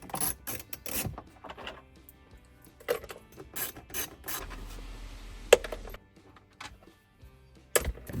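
A ratchet backs 7 mm bolts out of the instrument cluster of a 2014-2018 GMC Sierra in short, close bursts of rapid clicking, separated by quiet pauses and small handling noises.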